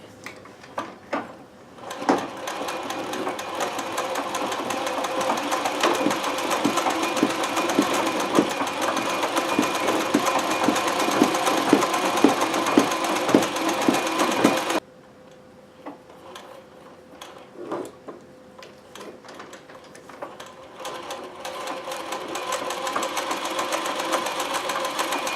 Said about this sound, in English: You can get a good speed going. You can hear the gears going.